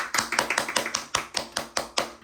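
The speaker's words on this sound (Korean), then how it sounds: "오늘은 박수를 조금 더 길게 쳐봅니다." Hands clap steadily, about a dozen sharp, close claps in a brisk, even rhythm with no talking, at a Korean succulent flowerpot maker's live sales stream.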